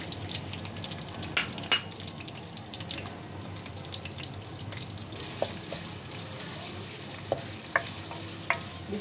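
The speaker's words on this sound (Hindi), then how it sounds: "कड़कड़ाने के बाद हम इसके अंदर आवाज़ आ रही होगी, और प्याज ऐड कर देंगे हम" Onions frying and sizzling in hot oil for a home-style lauki gosht, with a steady crackling hiss, scattered ticks and clinks of stirring throughout, no voices.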